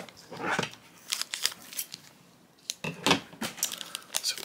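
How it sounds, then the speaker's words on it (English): Scissors snip and crinkle through blind box packaging for a Disney pin, with a series of sharp crisp cuts and plastic rustles coming in irregular bursts, close and moderately loud, no talking. "I think we're going to need scissors for this."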